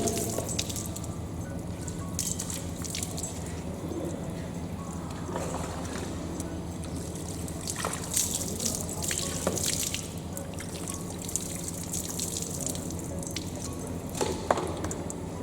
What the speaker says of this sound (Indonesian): Sekiranya udah bersih baru kita siram lagi.